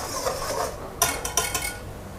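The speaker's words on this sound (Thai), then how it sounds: "ใช้ตะกร้อมือคนผสมให้เข้ากันครับ" A hand whisk stirs rice flour and half a teaspoon of dry yeast in a mixing basin for a Thai palm-sugar cake batter, giving soft scraping followed by a few sharp, close metallic clinks against the bowl.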